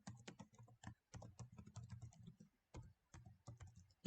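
Rapid, uneven bursts of keystrokes clatter on a computer keyboard, broken by brief pauses, close and clear with no speech.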